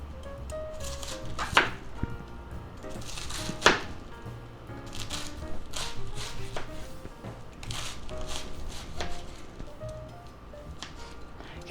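A sharp knife chops through cabbage, sausage, peppers and onions on a cutting board for a fried cabbage dish, giving a few crisp, separate chops over a low background hum.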